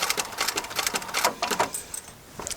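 Sewing machine top stitching along an upholstery seam, a rapid rhythmic mechanical chatter in quick bursts with short pauses, close and clear with no talk.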